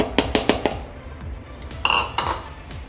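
A plate is handled while rice flour is added for dough, producing a quick series of sharp ceramic clinks and taps, a cluster of four early and another few near the end, close and distinct with no speech.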